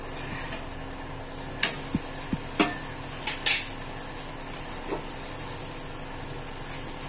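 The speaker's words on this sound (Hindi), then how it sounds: "अब आपको ये पलट देना है और घी को इसके ऊपर ऐसे डालना है।" Ghee poured over a paneer paratha on a hot griddle hisses in a steady, gentle sizzle, broken by a few light taps and clinks of a utensil nearby.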